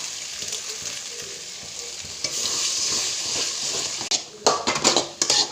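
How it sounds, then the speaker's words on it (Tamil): Beaten eggs poured into a pan of frying chicken 65 masala, a steady close sizzle that swells after a few seconds into louder bursts of hissing and stirring scrapes. "உடச்சி வச்ச முட்டையை ஊற்றிடலாம்"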